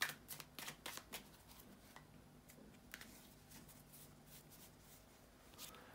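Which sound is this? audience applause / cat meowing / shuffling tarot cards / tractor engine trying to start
shuffling tarot cards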